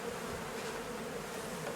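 Honey bees buzz steadily and densely around an open beehive during a summer honey harvest, a close, continuous swarm drone with no talking.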